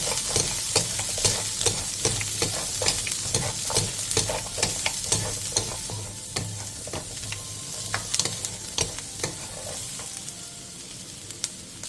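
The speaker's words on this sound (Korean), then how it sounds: "칼집이 다 벌어지면 양파와 파프리카를 넣고 1, 2분 정도 더 볶아주세요." Sausages stir-frying with onion and paprika in a pan give a continuous sizzle broken by repeated scraping and stirring clatters, close and fairly loud, with no voices throughout.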